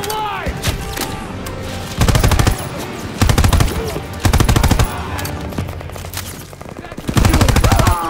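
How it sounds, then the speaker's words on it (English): Bursts of automatic gunfire from the Call of Duty WWII Stronghold mission, loud and close, in repeated rapid volleys with brief pauses and battle clamor between them. "Keep firing! That gun is still alive!"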